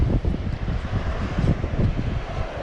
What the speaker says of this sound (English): as the wind is blowing